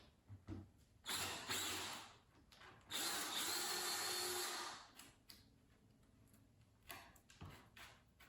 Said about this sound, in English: I clear a little more material on one side of the plywood with a larger drill bit